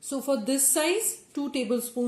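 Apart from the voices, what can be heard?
None of the usual background noises is heard.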